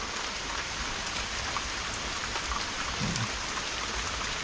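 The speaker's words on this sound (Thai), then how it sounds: "เดี๋ยวรอให้ฝนหยุดเดี๋ยวค่อยไปต่อนะฮะ" Steady rain falls on a forest during mushroom hunting in wind and rain, a dense, even hiss of drops on leaves and ground that continues without a break and with no voices.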